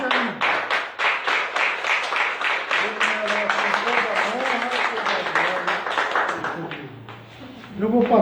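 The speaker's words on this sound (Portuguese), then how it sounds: "Dê uma salva de palmas." Louder, sustained applause from a church congregation at a Sunday night service, many hands clapping steadily for several seconds before tapering off, with voices and singing-like tones mixed underneath.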